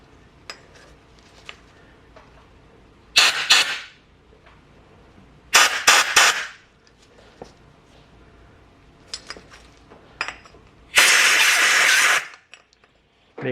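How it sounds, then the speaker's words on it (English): Compressed air blasting dust out of the passageways of a rear brake caliper from a 2014 Suzuki GSX-R 750: three loud, close hissing bursts, the last the longest, with quiet clicks and handling noises between them. "We want to get some compressed air. And we want to blow out all the passageways."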